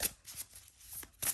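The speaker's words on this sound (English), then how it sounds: "And then I'll, you know, shuffle the deck again." Deck of tarot-style cards shuffled by hand, close and fairly quiet, in several quick riffling bursts with short pauses between them.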